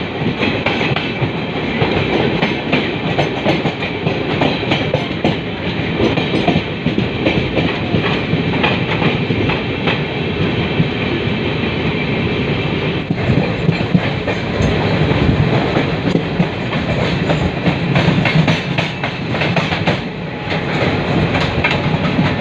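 Garib Rath Express passenger train running on rails from Hazrat Nizamuddin toward Mumbai, a steady loud rumble with rhythmic clickety-clack of wheels over joints throughout, no talk.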